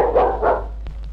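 A dog in a Telugu fantasy film scene, playing fetch with a ball, gives two quick, loud barks close by, followed by a brief soft sound.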